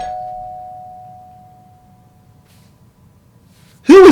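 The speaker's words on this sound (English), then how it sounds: "Who is keep ringing my doorbell?" A doorbell in a home rings once, a ding fading slowly into quiet, and then a second loud chime cuts in abruptly at the end.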